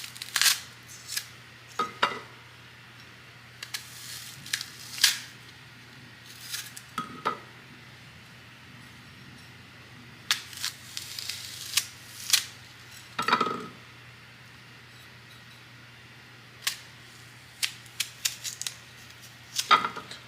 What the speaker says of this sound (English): You gotta make sure you cut the middle of the apple, exclude it from what you're giving them.